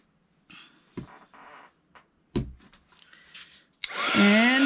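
A hair dryer blasting loudly and steadily as it dries watercolor paint in a flower journal, switching on near the end after some soft handling and tapping sounds.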